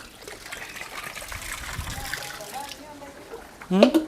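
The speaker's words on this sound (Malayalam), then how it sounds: "ഈ പച്ച പൈപ്പിൽ വെള്ളം അങ്ങോട്ട് വരുന്നുണ്ട്." Water runs from a green hose pipe beside a large fish pond in a continuous soft trickle, with a short voice breaking in near the end.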